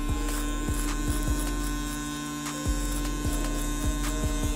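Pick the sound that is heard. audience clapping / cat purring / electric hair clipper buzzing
electric hair clipper buzzing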